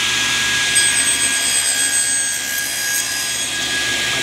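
A table saw cuts a tenon along the side face of a clamped wooden board for a picture frame, giving a steady, loud whine with a bright hiss that holds evenly for several seconds and eases slightly toward the end.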